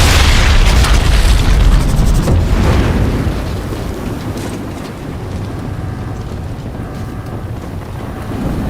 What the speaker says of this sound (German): Looks like an explosion.